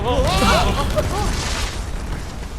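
A heavy explosion in Final Fantasy VII Remake booms and rumbles, layered with whooshing, warbling effects that fade over a couple of seconds.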